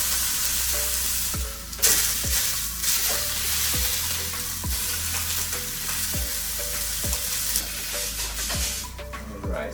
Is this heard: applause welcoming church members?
no